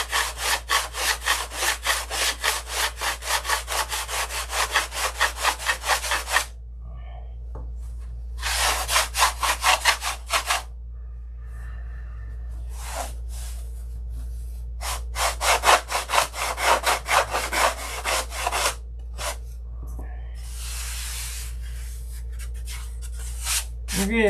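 Rough sanding on the wooden fuselage of a Sig Magnum model aircraft, with fast rhythmic back-and-forth rasping strokes in long bursts, separated by short pauses with quieter handling noises, close and loud.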